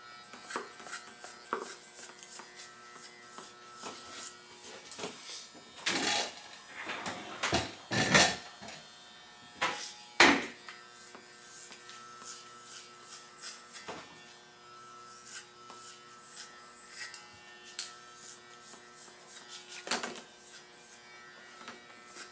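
Electric hair clippers fitted with a number two guard buzz steadily at a barber shop, faint and continuous, with brief handling clicks and rubbing as the hair is cut.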